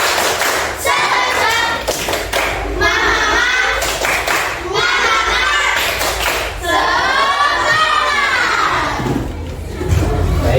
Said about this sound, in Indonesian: sebelum kita masuk ke pembelajaran, tepuk semangat.